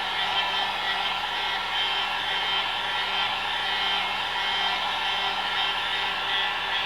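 A heat tool set on low blows steadily to set a craft piece, giving a constant loud airy whoosh with a faint motor hum that never changes for the whole stretch.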